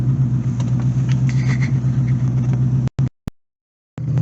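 A C4 Corvette engine idles roughly and unevenly, a steady low rumble that carries close and loud for about three seconds before cutting out abruptly, with brief bursts and a return of the idle near the end.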